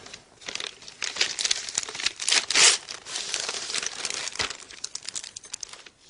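Gift wrapping paper crinkles and rustles as a present is unwrapped by hand, a busy close crumpling with a louder tearing burst midway, then softer handling.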